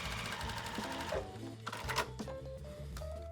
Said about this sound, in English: Sometimes fabrics react differently on your sewing machine.